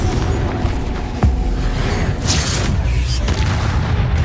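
Bombarda and Confringo spell blasts in Hogwarts Legacy, with a sharp booming burst followed by rumbling explosive noise over a dense, loud game soundscape.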